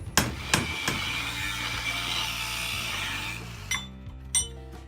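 Scrap steel wedges hammered to drive large chunks of die metal out of an anvil's hardy hole: a few sharp, loud metal-on-metal blows with ringing clinks, spaced irregularly, close up and alone.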